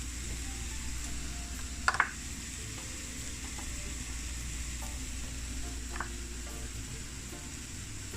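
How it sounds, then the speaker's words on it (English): Sweet Thai chili salmon fries in a pan with a soft, steady sizzle, broken by a couple of brief utensil clinks near the start and middle. "you want to make sure you fry them up first"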